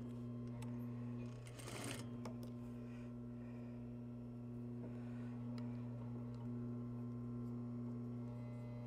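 A sewing machine stitches a seam with a back tack, a steady mechanical whir over a constant low hum, with a brief louder burst early on, alone without talk.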